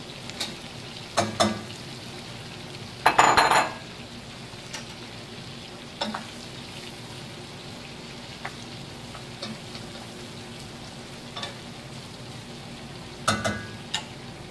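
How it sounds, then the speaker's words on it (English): Onion, carrot and celery sizzling in a pan on a high-heat Fratelli Onofri burner, a steady low frying hiss broken by several scraping stirs, with one longer scrape early on. "just going to add these vegetables, some onion, carrot and celery"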